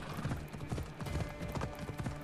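Rapid, rhythmic clip-clop of horse hooves at a steady gallop in the video game Assassin's Creed Odyssey, moderately loud and continuous, with a faint low hum behind it.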